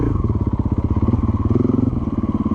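A 2024 Gas Gas EC450F dirt bike engine chugs close by while riding, a loud rapid rhythmic thumping at low revs with steady throttle.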